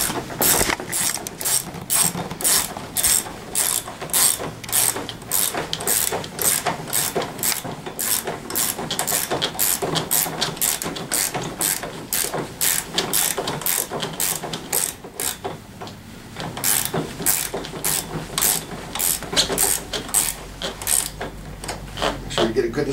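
Rapid ratchet clicking from tightening bolts while assembling a Tao Tao 50 T3 scooter, a steady run of close, loud clicks that pauses briefly near the middle and then resumes.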